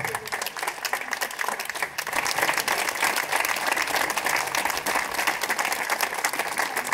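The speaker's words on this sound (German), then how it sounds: "aber ein ganz, ganz kräftiger Applaus" Sustained, dense audience applause at a local neighborhood event, many hands clapping steadily and fairly loud for several seconds, swelling slightly partway through.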